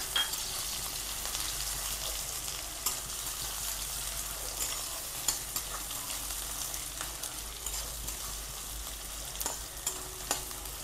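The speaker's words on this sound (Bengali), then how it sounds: "এবার দিয়ে এরকম এক বাটি পেঁয়াজ কুচি দিয়ে দেবো। পেঁয়াজ কুচিটা দিয়ে একটু নাড়াচাড়া করব।" Chopped onion fries in hot oil with a bay leaf, giving a dense, even sizzle throughout, broken by scattered clicks and scrapes as a spoon stirs the pan, no one speaking.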